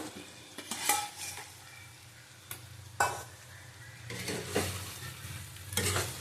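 Potatoes sautéing in a pan for tengra fish curry, with an even sizzle under several bursts of spatula scraping and stirring, close and fairly quiet, no voices.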